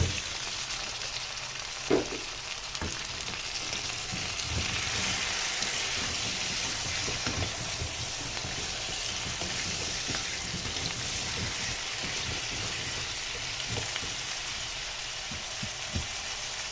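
Potatoes fry in hot oil in a pan with onion, giving a steady, close sizzle like rain on a surface, broken now and then by soft stirring knocks and pops.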